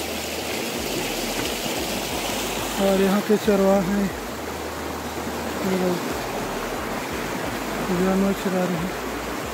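Steady broadband rush of stream water flowing near Bhaisa-odar waterfall, continuous throughout, with someone talking over it in a few short bursts.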